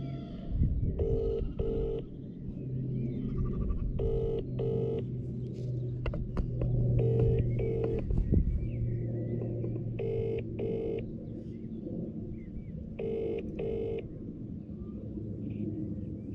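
A phone ringback tone repeats in paired bursts at regular intervals over a low outdoor rumble.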